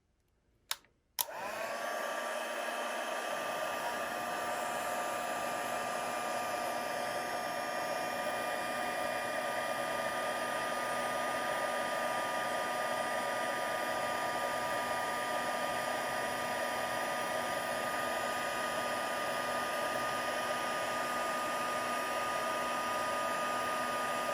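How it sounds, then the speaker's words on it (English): Embossing heat tool blowing hot air, switching on with a click and then a steady, close, high whirring hiss that runs unchanged for the full length, alone without talk. "heat tool on and let it heat up for a few seconds"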